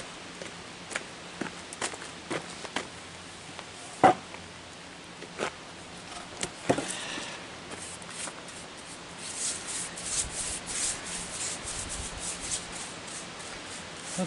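Brushing and rubbing out spilled copper coating on red oak porch spindles outdoors, a series of faint, scattered scrubbing strokes with sharper brush sweeps, then a softer continuous rubbing toward the end, close and quiet.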